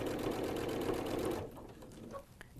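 A sewing machine runs a steady, fast stitch along a diagonal quilt seam on stretchy fabric, loud and continuous, then stops abruptly partway through, leaving quieter handling noises and light fabric movement.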